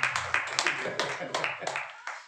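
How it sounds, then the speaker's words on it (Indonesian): A church congregation claps during a Sunday worship service, giving a short run of scattered, moderately loud claps in an indoor room, with talking mixed in. "Jemaat boleh kasih aplaus nanti."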